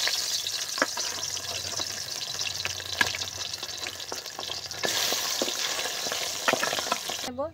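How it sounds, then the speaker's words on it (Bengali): Pabda fish frying in hot mustard oil in a pan, a continuous close crackling sizzle with occasional sharp pops, heard on its own with no talking. "এটা গরম হয়ে গেছে, এবার পাবদা মাছটা দিয়ে দেব,"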